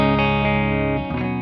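An electric guitar plays through a Victory VX Kraken MKII amp on the clean channel in low power mode. A sustained, chiming chord rings loud and close, and a fresh strum comes near the end, with no talking.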